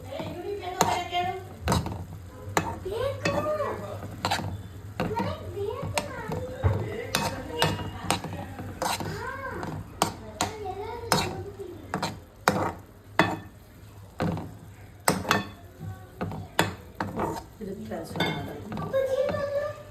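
Sweet corn being mixed with chili powder in a bowl, a spoon repeatedly clinking and scraping against the dish in quick irregular strokes, close and clear while a voice talks throughout.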